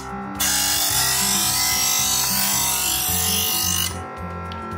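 An electric knife sharpener grinds a knife blade against its spring-loaded wheel: a loud, steady motor whine with a rasping edge that starts abruptly, holds for about three and a half seconds, then drops back to the idling motor.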